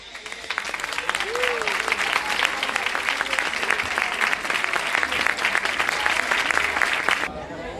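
A crowd at an Ascension festival gathering applauds a person being honoured, loud, dense clapping held steadily for about seven seconds before cutting off abruptly, with a brief voice sliding up early on.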